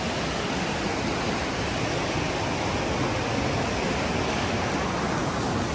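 A mountain river rushes along the Shey-Phoksundo trekking route in Dolpa, a loud, unbroken roar of churning water that stays constant and close with no voices over it.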